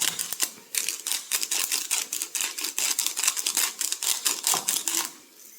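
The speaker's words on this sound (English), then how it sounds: "I'm just going to grind some black pepper in" A handheld pepper grinder cranks black pepper in a quick, even run of dry ratcheting clicks, close and crisp, continuing for several seconds before stopping.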